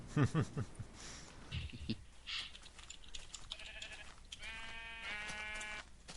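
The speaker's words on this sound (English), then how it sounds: "I hear sheep, but I hope they're getting sheared." A few short sheep bleats ring out in a video game amid game sound effects and chatter, ending in a sustained, buzzy bleat-like tone.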